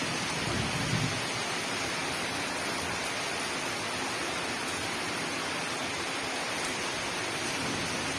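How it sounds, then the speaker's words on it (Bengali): Heavy monsoon rain pouring onto a rooftop, a dense, constant hiss that holds steady throughout with no voices. "কেমন বৃষ্টি হচ্ছে দেখো বন্ধুরা"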